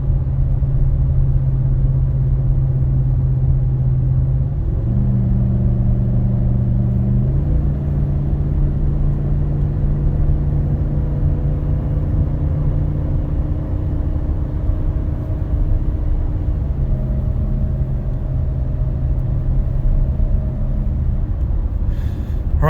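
A Ford F250 Super Duty pickup with the 7.3-litre Godzilla V8 drives along with a steady low engine drone heard from inside the cab. The pitch shifts in stages as it changes gear, with no talk over it.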